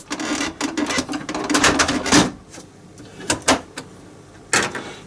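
The print head carriage of an Epson EcoTank printer slides back to the right during reassembly, producing a few scraping, clattering mechanical bursts with brief clicks between them, close and fairly loud.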